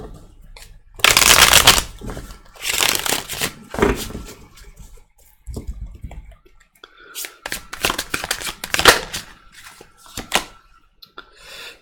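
Tarot cards being shuffled in several bursts of riffling and flicking, loud and close, with short pauses between shuffles.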